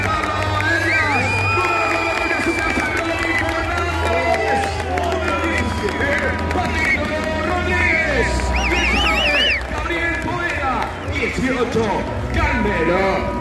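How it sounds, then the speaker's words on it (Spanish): A stadium crowd roars and cheers through a continuous din at the Club Bolívar 2023 squad presentation, with shouting voices, whistles and chanting layered over a loud, steady hubbub. "Fuerte el aplauso, por favor."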